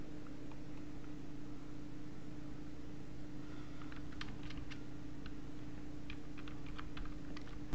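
Fast, continuous typing on a computer keyboard while writing Python code, close up over a low steady hum, with clusters of key clicks that grow busier toward the end and no speech.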